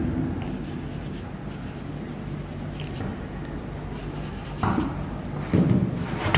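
A teacher writes a sentence during an English grammar lesson, producing faint, scratchy strokes and rubbing in short bursts, louder knocks near the end, with a voice speaking softly in the room.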